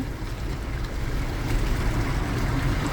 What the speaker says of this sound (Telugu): వచ్చే నీళ్ళ వేగానికి నీళ్ళ తుప్పర్లు రోడ్డు మీద పడుతున్నాయి